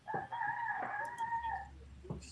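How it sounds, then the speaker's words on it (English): A rooster crows once in a long drawn-out call, fairly close, followed by a short cluck and faint background hum. "I hear the rooster in the background."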